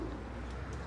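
Pigeons coo faintly in a brief moment of outdoor background noise during a pigeon flying event in Ptolemaida, with no talk.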